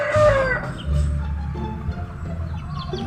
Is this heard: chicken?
yes